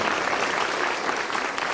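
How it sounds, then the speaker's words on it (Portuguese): Steady, dense applause from an audience welcoming a speaker to a professional talk on quality of life at work, continuous and fairly loud throughout with no voices over it. "Uma salva de palmas."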